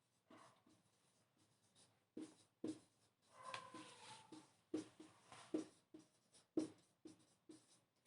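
Letters being written on a board, with a series of short scratchy strokes and taps in irregular bursts, faint and close, and no talk over them.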